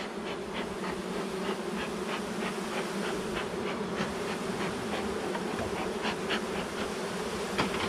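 Honeybees hum steadily at an open hive, a dense close buzzing drone that holds without a break, with no voices.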